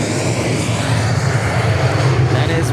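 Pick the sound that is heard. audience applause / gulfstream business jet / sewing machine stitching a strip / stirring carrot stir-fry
gulfstream business jet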